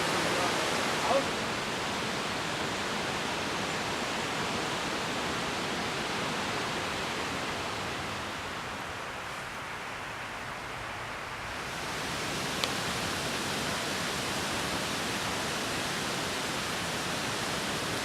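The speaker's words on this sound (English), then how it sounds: "that waterfall is so fucking good" A waterfall on the Olympic Peninsula gives a steady, broad rushing roar with no break, fading a little in the middle before returning to full strength.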